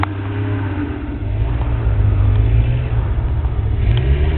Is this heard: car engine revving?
yes